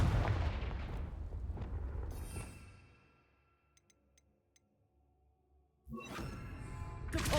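A Confringo fire spell in Hogwarts Legacy blasts with a loud rumbling explosive burst that fades over a few seconds, then a second sharp impact bursts in near the end.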